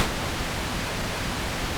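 Pink noise generated on a Roland JD-Xi synthesizer: a continuous, steady rushing hiss with noticeably more weight in the low end, sustained without change throughout.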